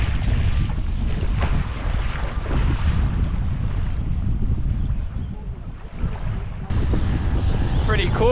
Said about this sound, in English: Alright, the wind's a bit strong.